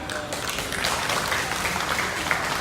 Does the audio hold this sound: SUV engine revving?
no